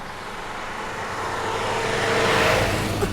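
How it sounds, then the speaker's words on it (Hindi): Car arriving in a 1989 Hindi film, an engine roar that swells steadily louder over a few seconds as the vehicle approaches, with no talking. "शारदा, धनजी की गाड़ी लगती है।"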